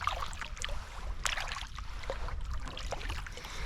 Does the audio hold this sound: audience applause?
no